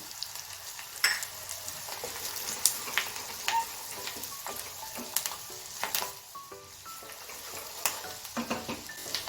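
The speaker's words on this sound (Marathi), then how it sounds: "फोडणी आता छान झालेली आहे" Red chilli powder and masala sizzle in hot oil for a rasam tadka, a soft crackling fry with scattered sharp pops and light stirring clicks, fairly quiet and close, with no voices.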